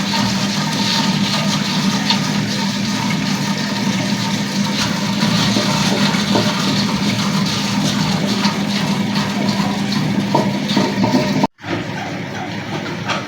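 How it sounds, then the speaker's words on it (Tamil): A wet grinder churns soaked finger millet batter with a continuous loud whirring rumble and wet swishing, close by, cutting off abruptly near the end. "கிரைண்டரில் நல்லா நைஸாக ஆட்டி"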